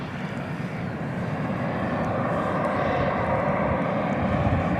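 An American Airlines Airbus A321 passes by at night at DFW airport, its engines a steady, dense roar that builds slightly over a few seconds with no voices.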